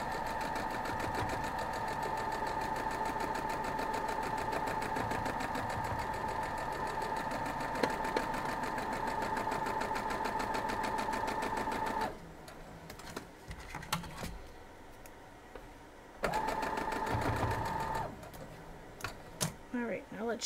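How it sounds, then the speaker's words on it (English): A sewing machine stitches a pinned seam on a pieced block, whirring in a steady, fast rhythm for about twelve seconds. It stops while a person talks, then runs again in a shorter burst. "Let's go sew that."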